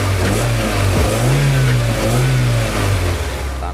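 A 1998 Opel Blazer DOHC LT with multi-port fuel injection, loud and close, revving twice from idle in rising and falling surges, with a steady engine drone between the throttle blips.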